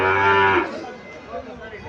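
A Sahiwal bull calf gives one loud, close moo that trails off quickly, followed by quieter farmyard background with faint murmuring nearby.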